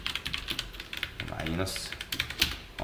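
JavaScript code is typed on a computer keyboard in a quick, close patter of keystrokes, with a voice talking over it.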